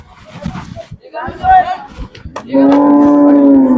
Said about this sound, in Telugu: మీరు చూసుకోవచ్చు అన్ని ముర్రా జాతికి చెందిన గేదెలు